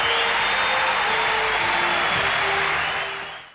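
A tennis crowd at Roland Garros in Paris rises in a standing ovation, dense continuous applause filling the stadium before fading out at the end.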